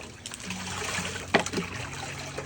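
Water trickles and pours steadily while dogs are bathed, a close, continuous splashing flow with a brief louder splash midway and no talking.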